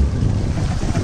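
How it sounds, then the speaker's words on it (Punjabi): A boat carries a motorcycle across the Sutlej river, a dense low rumble of water and motion mixed with wind buffeting on the microphone, loud and continuous over the brief moment. "ਫਾਈਨਲੀ ਪਹੁੰਚ ਗਏ ਸਤਲੁਜ 'ਤੇ ਅਤੇ ਬੇੜੀ ਚੱਲੀ ਆ ਉੱਧਰ ਲੈ ਕੇ ਮੋਟਰਸਾਈਕਲ"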